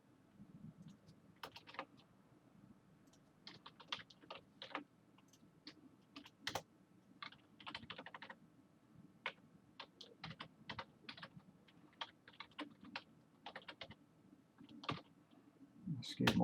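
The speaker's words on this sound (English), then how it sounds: "Excuse my typing." Typing on a computer keyboard comes in irregular bursts of quiet key clicks with pauses between them, heard close up against a low room hum.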